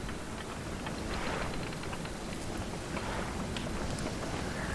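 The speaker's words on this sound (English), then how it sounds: "Yeah, it's raining." Steady rain hiss with a low rumble of wind and water in the video game Stranded Deep, continuous and fairly loud throughout, no voices.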